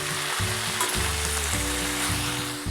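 Washed fenugreek leaves sizzle and fry in a hot pan, with steady crackling and the periodic scrape of stirring, close and continuous with no talking.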